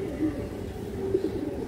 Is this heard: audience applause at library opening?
no